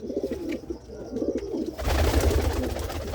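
Teddy pigeons coo in low, rounded pulses, a steady run of calls nearby that swells louder in the second half, with no talk over them.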